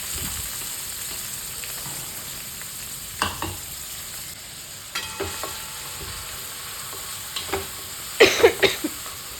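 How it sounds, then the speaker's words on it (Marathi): Onion, mustard seeds, cumin, curry leaves and green chilli fry in a few spoons of oil in a wok, giving a steady soft sizzle broken by occasional louder spatters and stirring clatters. "कांद्याचा कलर चेंज होत तोपर्यंत आपण हे परतून घेणार आहे"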